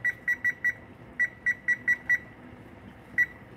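Electronic kitchen timer beeping in short, clipped tones as its buttons are pressed to set it, an irregular run of about ten beeps, fairly close and alone while cooking pasta with red sauce.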